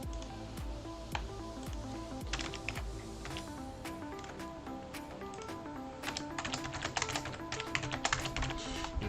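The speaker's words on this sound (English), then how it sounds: "Forgive me while I struggle typing and copying, pasting in my other windows here." Rapid clicking of a computer keyboard as someone types and copies and pastes between windows, a steady run of close, crisp taps with occasional louder keystrokes, no voice over it.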